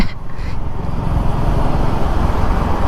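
A Suzuki Gixxer 250 motorcycle cruising in sixth gear gives a steady, loud, close roar of engine and rushing wind, continuous throughout without any talking.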